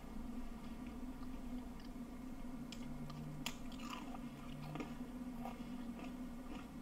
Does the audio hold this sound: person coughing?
no